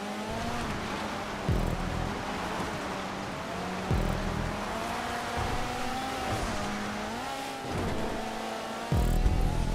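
Rallycross race cars in GTA 5 drive a grid layout on a race track, engines droning steadily with rising and falling revs, gear-change dips and tire noise, continuous and loud with no talk.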